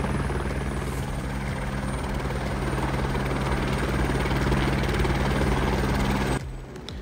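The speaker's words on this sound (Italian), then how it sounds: "Ecco il nostro elicottero." A helicopter arrives at a high-altitude mountain hut, its loud, steady rotor and engine roar holding close and constant for about six seconds before cutting off abruptly.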